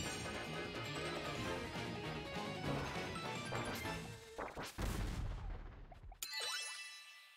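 Bombs explode in the video game Kirby and the Forgotten Land amid dense, busy game sound. Loud crashes and thwacks come near the end with bright metallic dings, then the sound cuts out briefly before resuming.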